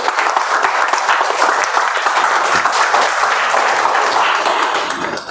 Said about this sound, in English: So let's give a good round of applause to our.